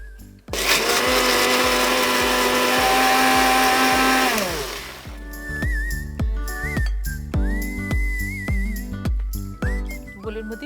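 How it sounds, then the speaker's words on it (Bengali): Green chillies being ground into paste in an electric blender: a loud, high whining motor run for several seconds, then a series of short pulsed bursts with pitch rising as the blades spin up, close and alone. "কাঁচা লঙ্কা, অল্প করে করে পেস্ট করে নিচ্ছি।"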